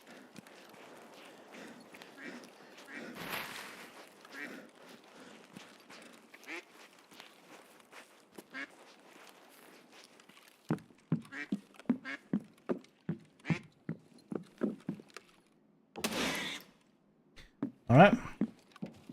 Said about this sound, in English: Hear it quacking?